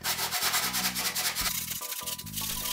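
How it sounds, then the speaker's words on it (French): A worn hand saw cutting through an aerated concrete block, a loud, close, rough rasping in steady back-and-forth strokes with short breaks between pushes. "Du coup on coupe comme on peut avec la scie."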